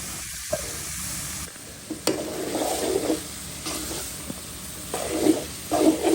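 Dried loitta fish hitting a hot pan of sautéed masala, with bursts of sizzling and frying hiss plus a few sharp stirring clatters, close and fairly steady throughout.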